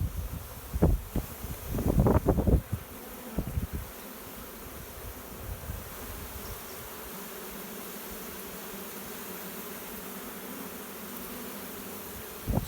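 Honeybees hum in a steady, dense drone around a hive frame pulled from a queenless colony, with a few brief knocks and rustles of handling near the start.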